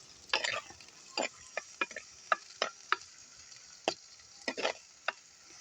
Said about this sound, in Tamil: நல்ல வடிவாக பிரட்டி வதங்க விடுவோம்